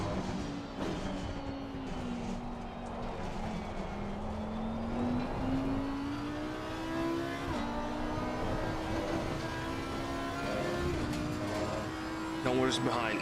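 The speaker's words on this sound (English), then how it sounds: "I want to hear that engine." A race car engine in Assetto Corsa Competizione at the Hungaroring, with a steady drone that rises and shifts pitch through gear changes over about thirteen seconds, other cars faintly in the mix.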